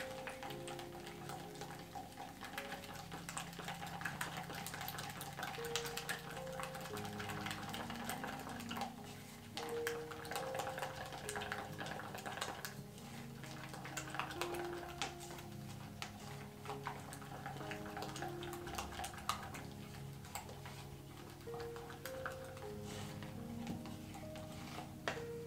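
Acrylic pouring paint being stirred in a cup for fluid art, a steady run of small ticking and scraping taps that continues throughout at moderate loudness, with no talking.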